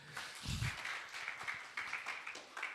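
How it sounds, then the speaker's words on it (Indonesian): Church congregation applause during a worship service, moderate scattered clapping heard at a distance with a low thump near the start and a voice briefly underneath. "Tepuk tangan dulu buat dia."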